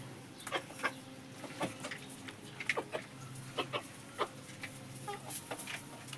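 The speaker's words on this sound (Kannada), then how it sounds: "ಪಾಪ ಎಲ್ಲ ಕೋಳಿ ಹಸಿದು ಬಿಟ್ಟವು ಗೈಸ್." Hungry farm chickens cluck at feeding time with repeated short, irregular calls, some near and some farther off, over a quiet yard background with no talking.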